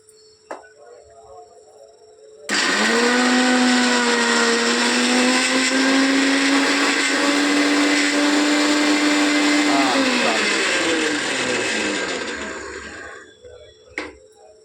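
A blender or mixer grinder pulverises dry red chillies, a spoon of coriander seeds, a spoon of coconut and seven or eight garlic cloves into powder, whirring loudly and steadily for about ten seconds before winding down.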